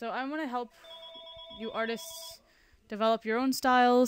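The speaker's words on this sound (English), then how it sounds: "I'm very sorry the phone is ringing." A telephone rings in a room, its trilling bell heard in short bursts between and over a man's speech, moderately loud and near.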